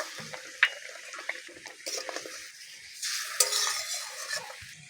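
Water is poured into a pan of frying eggplant to make gravy in a home kitchen, a soft splash and hiss followed by bursts of sizzling and stirring, close and moderately loud.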